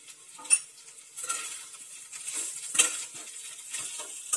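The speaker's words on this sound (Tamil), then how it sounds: "லேசாக எண்ணெயில் கலக்கிக்கோங்க." Small potato pieces stirred in hot oil in a pan for samosa filling: a faint sizzle runs underneath while a spoon scrapes and clinks against the pan in a few brief strokes.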